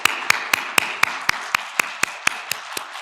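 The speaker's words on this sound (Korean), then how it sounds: "박수 한번 올려드리겠습니다." A church congregation claps together in a steady, even rhythm, about a dozen sharp beats over three seconds, giving thanks for the new year of 2021 during a Wednesday service at a Presbyterian church.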